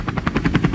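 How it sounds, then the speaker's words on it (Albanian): Helicopter rotor chop, a fast steady whump-whump pulsing at close range and fairly loud, heard alone with no talking. "Po është helikopter im."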